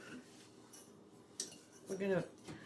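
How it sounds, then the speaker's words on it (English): Pans and utensils clink and clatter in a home kitchen while cooking with apricot nectar and orange, a few close metallic knocks, with a brief bit of speech mixed in. "Need pans because we have to reduce this. Pans. Let's have a pan."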